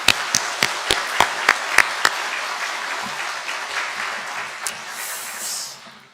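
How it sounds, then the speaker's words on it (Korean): A church congregation gives applause for its youth group during a Sunday service at a Methodist church. A few sharp, separate claps open it, then a steady wash of clapping fades out. "우리 청년부 힘내라고 우리 뜨거운 박수 한번 보내겠습니다"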